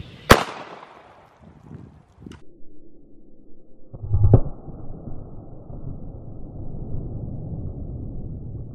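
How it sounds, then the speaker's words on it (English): .410 shotgun loaded with birdshot fired at a cinder block wall outdoors: a loud, sharp blast with a quick decaying tail, then a second crack a few seconds later followed by a low rumbling background. "we just shot it with a 410 and it didn't do much"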